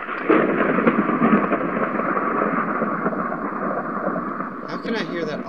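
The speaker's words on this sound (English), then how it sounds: "I think it's raining outside." Rain falls in a Minecraft world, a steady, dense hiss running unbroken throughout, with low rumbling suggesting thunder beneath it.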